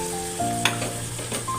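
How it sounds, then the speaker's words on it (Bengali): Ground spices sizzle in hot oil in a pan for Bengali mutton liver kosha, with turmeric, salt, chilli and cumin. The frying crackles loud and close, with a few stirring scrapes and no talk. "এবার একটু কষাতে হবে কিছুক্ষণ"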